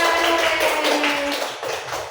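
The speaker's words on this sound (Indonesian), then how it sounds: "kasih tepuk tangan buat Mas Farhan" Classroom clapping for a student, a quick burst of many small hands clapping close and lively, fading over about two seconds.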